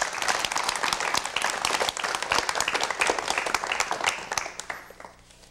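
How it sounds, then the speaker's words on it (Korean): A studio audience on a 1990 KBS television talk show applauds to welcome Kim Min-ki, a lively burst of many hands clapping close and loud that dies away in the last second. "여러분 김민기 씨를 박수로 맞이해 주시면 대단히 고맙겠습니다"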